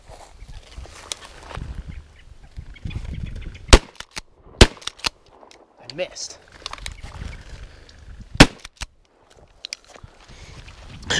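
20 gauge shotgun fired while quail hunting outdoors, a few sharp separate blasts spread out among rustling, footsteps and quiet talk.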